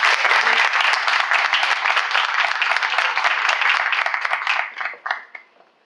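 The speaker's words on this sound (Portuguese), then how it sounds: "Palmas para ela." Loud, dense applause from an audience at a V8 NEXT event as Luiza Trajano is called to the stage. Many hands clap steadily for several seconds, then thin out and stop near the end.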